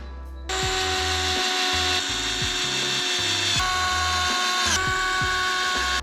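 A power driver spins 2.5 mm screws back into the skid plate of an Arrma Gorgon RC car, a close, loud continuous whine with repeated rhythmic ratcheting clicks and pitch dips as each screw seats.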